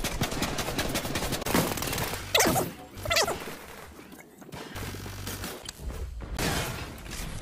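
Video game gunfire sounds as loud bursts of rapid shots and mechanical clatter, with denser volleys early and a lull near the middle before firing picks up again.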